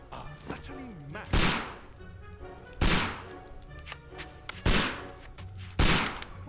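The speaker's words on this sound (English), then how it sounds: "Why is he shooting up everything?" Holmes firing a gun in Sherlock Holmes: Crimes and Punishments, four loud, sharp gunshots spaced about a second or more apart, each with a short decaying tail, and a brief voice just before the first.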